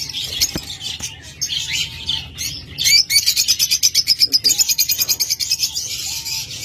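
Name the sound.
pet birds chirping in cage, lovebirds, budgerigars or cockatiels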